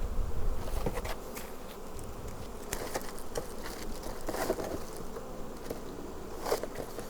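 Honey bees buzz around an open hive during fall management before mite treatment, with a steady close swarm drone and individual bees zipping past the microphone, no talking.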